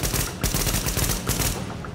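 Rapid hip-fire bursts in The Division, a tactical shooter, crack out as dense, loud volleys of automatic gunfire in repeated clusters with short gaps between them, close and alone with no talking.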